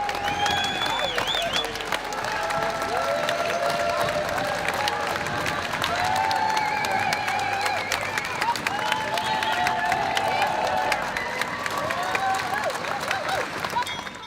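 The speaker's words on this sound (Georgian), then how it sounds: "მათ გრანდიოზული ოვაციებით სავსე დახვედრა მოუწყვეს" A large crowd applauds and cheers to welcome the Artemis II astronauts at an airfield in Houston, Texas, with dense sustained clapping, whoops and shouts throughout, loud and close, and voices mixed in.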